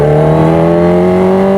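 Kawasaki Ninja H2R supercharged motorcycle accelerating hard, a loud close engine roar climbing steadily in pitch with a strong harmonic drone, continuous through the quick-shifter upshift without a break in power.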